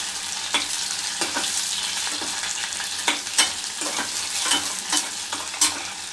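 Long-sliced onions sizzle in a pan for red lentil dal, a constant hissing fry with irregular scrapes and taps of a stirring spoon, close by and without speech.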